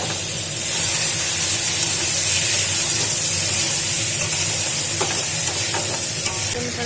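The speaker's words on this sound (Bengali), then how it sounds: "এবার আমি যে মশলাটা করে রেখেছিলাম সেই মশলাটা কষিয়ে নেবো দিয়ে" Spice paste fries in hot oil for a bhola fish and eggplant curry, giving a loud continuous sizzle with steamy hiss and a few light stirring scrapes toward the end.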